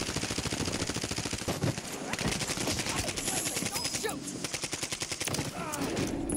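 Rapid automatic rifle fire from a Kastov 545 in the video game Warzone 3, sustained bursts of sharp shots filling the whole stretch, loud and close, with players' voices talking over it.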